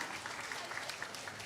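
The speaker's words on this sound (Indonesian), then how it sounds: "Tepuk tangan semuanya." Children and an audience clap together at a kindergarten state-defense education event celebrating a radio station's anniversary, a steady, soft patter of many hands that sounds distant and faint throughout.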